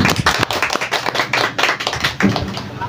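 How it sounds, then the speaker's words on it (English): An audience claps to welcome a guest to an interview, lively and close, with individual hand claps distinct in a dense, uneven burst that carries on steadily without a break. "let's give him a round of applause, George Batad, also known as Amay."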